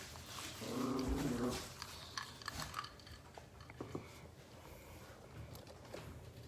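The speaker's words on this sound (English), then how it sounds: "The dogs are playing." Dogs play-fight with low growls and chewing, snarling sounds, a rough bout that swells loud early and then continues as intermittent nearby grumbles and scuffles with no talk.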